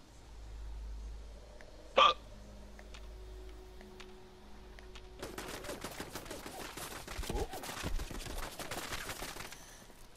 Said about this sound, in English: I don't know what it's fucking shooting at. It's shooting at the dirt.